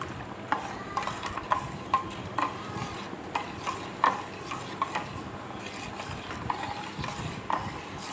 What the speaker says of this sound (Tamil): திக்காக ஆகிற வரைக்கும் கிளறிட்டே இருக்கணும்